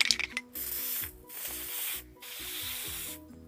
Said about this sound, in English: I was spraying it on here for a little bit and it looks kind of real.